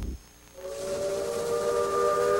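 A steam train whistle blows loud and sustained, a steady hissing tone that starts after a brief quiet moment and holds to the end.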